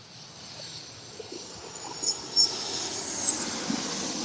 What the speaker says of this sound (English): this is Delta Airlines Flight 800 coming in from Orlando. And that was a Boeing 737-900 ER.